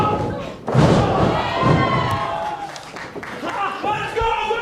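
A loud thud of a big kick landing during a live wrestling match, one sharp impact followed by a second, heavy with crowd noise and arena echo and commentary underneath.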